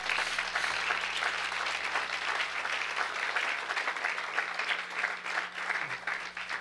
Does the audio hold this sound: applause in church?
yes